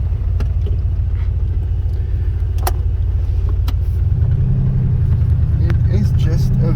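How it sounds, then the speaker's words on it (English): Porsche driven through a home town, with a loud steady engine and road rumble inside the cabin that deepens near the end, as someone talks over it. "it is just a very nice car to drive"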